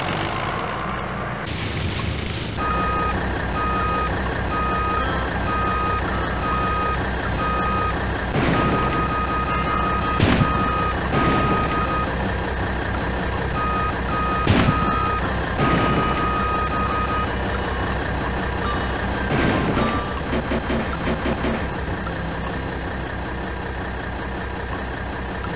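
A bulldozer or front loader in a road-clearing construction video game sounds steady reversing beeps over a continuous idling diesel engine rumble, with occasional heavier thumps throughout.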